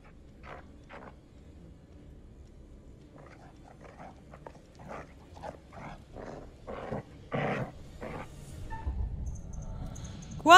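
A dog in the horror video game The Devil in Me growls and snarls in a series of short, separate bursts that grow louder and closer toward the end, with no talking.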